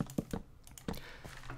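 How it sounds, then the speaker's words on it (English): Keys clack on a computer keyboard while someone plays Minecraft: several crisp, separate clicks at an uneven pace, close and fairly quiet. "Press 8 on the keyboard."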